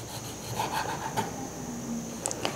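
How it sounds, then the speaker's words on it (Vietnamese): A knife slices kumquats thinly on a board, making soft rubbing and scraping strokes in a quiet kitchen, with a few small clicks at the end. "Bây giờ thì mình sẽ cắt lát ra. Cắt lát mỏng như vậy nha."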